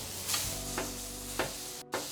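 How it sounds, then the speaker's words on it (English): A spatula chops cheeseburger meat on a sizzling flat-top griddle for a chopped cheese sandwich, giving a steady close fry hiss punctuated by several sharp scraping chops spaced through the clip. "we're gonna start chopping this baby up."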